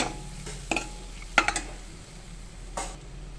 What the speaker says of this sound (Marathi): आपला आलं लसूण आणि मिरचीचा वास जाईपर्यंत आपण परतून घेणार आहे हा मसाला